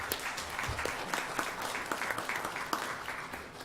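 Steady applause from the audience fills a city council meeting in Duncanville, Texas, dense clapping continuing throughout at moderate distance, with no voices over it.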